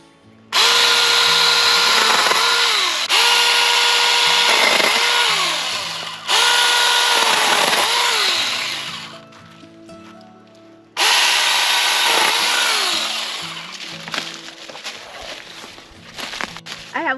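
A small chainsaw cutting lower tree limbs revs loudly in repeated cutting bursts, engine pitch dipping under load then rising, with short idle gaps between cuts.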